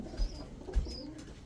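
Domestic pigeons giving two low, soft coos, close by and fairly quiet.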